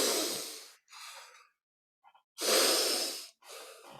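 A person demonstrates breathing in and out, with several loud, close, airy inhales and exhales separated by brief pauses and no talking.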